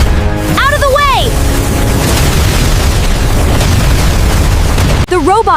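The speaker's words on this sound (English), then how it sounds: "The robot begins exploding." A cartoon robot machine blows up in a sustained, loud roaring blast that fills the scene, with a character's voice calling out just before and again right after.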